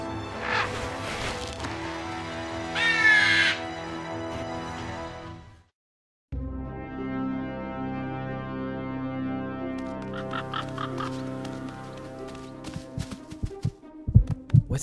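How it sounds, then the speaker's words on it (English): A heartbeat sound effect plays in the game Whitefall, Episode 4. Low, steady throbbing thumps sit over a droning hum, break off briefly, then resume with sharper knocks toward the end. "It's like a second heartbeat."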